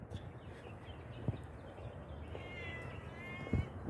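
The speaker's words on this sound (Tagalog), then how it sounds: "Ayan ang pusa, oh, tingnan mo ang gaganda ng mga pusa dito mga boss" A cat meows softly a couple of times, with drawn-out rising cries at a modest distance, over quiet outdoor ambience with faint knocks and rustles.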